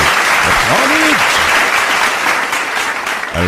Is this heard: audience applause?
yes